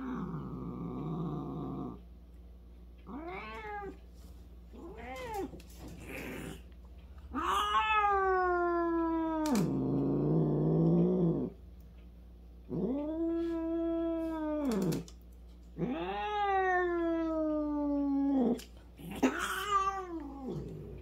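A cat gives repeated drawn-out meows and growling yowls while its claws are being trimmed, in several distinct calls with short pauses between them, close and fairly loud.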